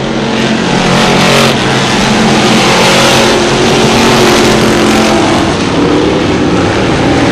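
Crate Sportsman modified race cars roar nose to tail around an oval track, a loud continuous engine howl rising and falling as the pack sweeps past, dense and close throughout.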